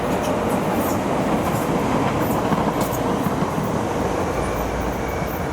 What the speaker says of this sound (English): here you got the train heading to Tower Gateway, and the other to Beckton